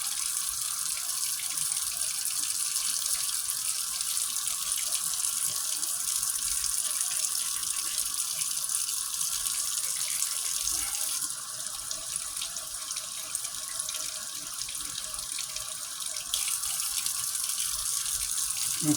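Hot water pours steadily from a tap, loud and continuous, while a doll is rinsed under the stream to lift a stain, and the flow changes slightly partway through.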